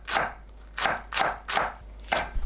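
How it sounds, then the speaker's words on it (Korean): A knife slices green onion into rounds on a cutting board, giving five crisp, evenly spaced chops close to the microphone with short pauses between them and no talking. "파를 둥글게 썰어줍니다."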